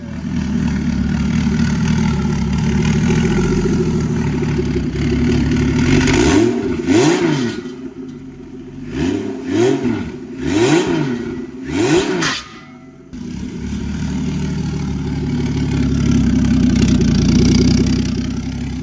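A Lexus IS300 engine fitted with a CT20 turbo idles loudly and steadily, then rises through several sharp revs in a row before settling back to idle, close and with no talk.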